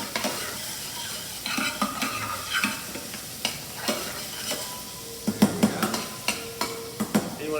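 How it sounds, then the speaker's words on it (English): Ground meat and carrots sauté in a pan for shepherd's pie, giving a steady close sizzle broken by repeated scraping stir strokes and light clinks of a utensil against the pan, with no talking. "And we'll add our carrots. There we go. And we're just going to saute this until it gets nice and done."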